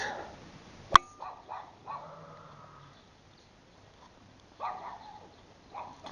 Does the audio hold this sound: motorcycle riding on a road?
no